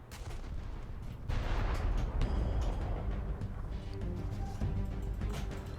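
Heavy naval guns of the USS Alaska CB-1 large cruiser boom in War Thunder, a dense run of loud, rumbling cannon blasts and rolling impacts that overlap across the whole stretch, with no talking.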